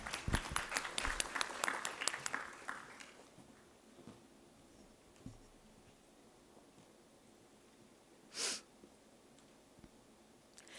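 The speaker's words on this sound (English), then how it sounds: "Please give a huge round of applause." A brief burst of audience applause fades out after a few seconds, leaving a quiet room with one sharp noise later.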